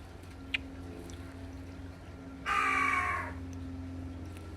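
A crow gives a single harsh caw midway through, fairly loud and near, over a steady low background hum.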